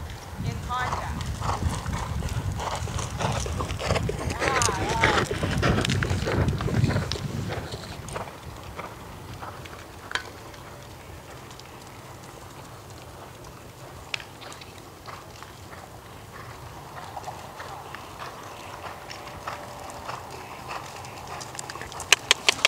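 Horse hooves clip-clop during a riding warm-up lesson in an arena, soft rhythmic footfalls with occasional snorts and chewing, as an instructor talks over them throughout.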